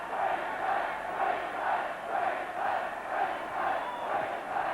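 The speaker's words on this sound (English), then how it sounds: "the Queensland crowd loving every minute of it" A Queensland crowd at a rugby match cheers and roars in sustained, swelling waves, loud and continuous with no clear voices standing out.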